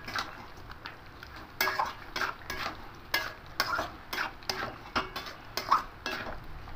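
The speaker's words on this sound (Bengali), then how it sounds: "এবার সমস্ত মশলাগুলোকে একসঙ্গে মিশিয়ে নেব।" Chicken cooking in a little oil while the spices are mixed in, a low sizzle under a string of loud, irregular spoon scrapes and clinks against the pan.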